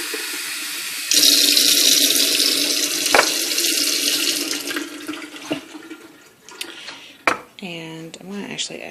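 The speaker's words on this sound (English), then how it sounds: "Hot water." Hot water gushes from a kitchen tap into a sink for a few seconds, then stops, followed by clinks and small splashes of dishes, with someone talking over part of it.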